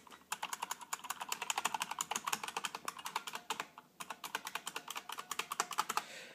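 An IBM Model M keyboard with stiff buckling-spring keys is typed on in fast, even bursts of sharp, loud clicks close to the microphone, with a brief pause near the middle.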